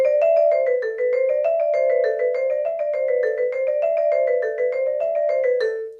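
Vibraphone notes ring out in a steady flowing run with the damper pedal half down, each bar sustaining a little into the next, bright and close, no voices.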